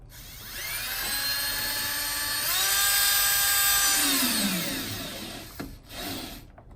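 A power drill drives self-tapping screws into oak trim, a rising, whining motor tone that climbs and holds for several seconds, then winds down, followed by a couple of short scraping knocks.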